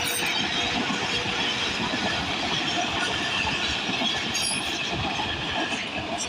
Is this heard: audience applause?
no